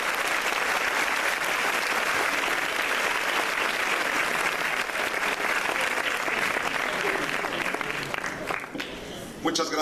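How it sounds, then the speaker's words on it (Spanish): Sustained, loud applause fills a conference hall as an audience welcomes a public-health speaker, the dense clapping holding steady before tapering off near the end. "Yo quiero pedirles un aplauso para él."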